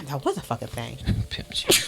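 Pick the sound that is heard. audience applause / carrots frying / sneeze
sneeze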